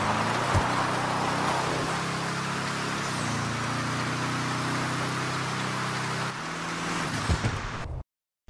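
A car resembling the Hudson Hornet, in the video game GTA V, drives along a dusty lane with a steady engine drone and broad road hiss, nearby and fairly even before cutting off at the end.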